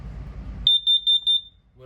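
An RV LP gas detector in a 2026 Sierra 41DUPLEX camper sounds during a test, giving a run of five or six quick, piercing beeps close by before falling silent.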